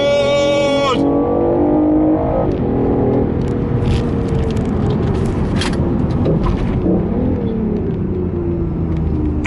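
A 2017 BMW i8 hybrid in sport mode launches hard from a standstill, its engine surging into a loud, sustained acceleration roar heard from inside the cabin, with a brief tone and a voice at the start.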